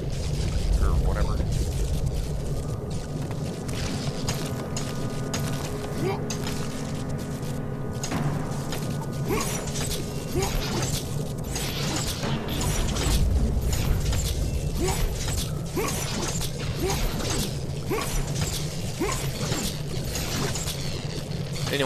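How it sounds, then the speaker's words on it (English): Clanking, grinding machinery of a moving automaton in God of War: Ghost of Sparta, a steady mechanical rattle with metallic clicks and bangs throughout, under game voices. "What's that? Oh, it's an automaton."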